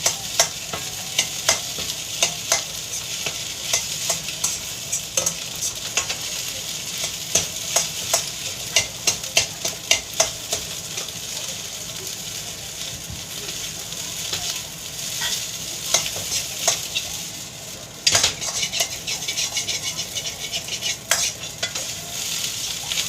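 Spatula scraping and stirring food in a frying pan over a steady sizzle, with irregular metallic clinks repeating throughout.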